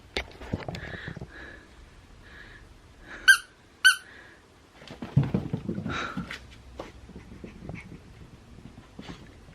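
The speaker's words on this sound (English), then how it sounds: "She got a set of 4 of these Nerf squeaky like tennis balls" Two sharp, high squeaks from a Nerf squeaky tennis ball dog toy, close and loud, surrounded by a dog's panting and soft whimpers, with shuffling and chewing noises.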